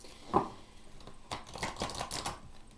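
A single riffle of tarot cards followed by a rapid run of crisp flicking and slapping as the deck is shuffled, close and fairly quiet.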